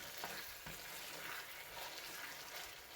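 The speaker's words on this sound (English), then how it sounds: "Just give it a good stir." Meat and cheese sizzle in a pan as they are stirred, a soft steady frying hiss with occasional scraping strokes, close but quiet, with no talk.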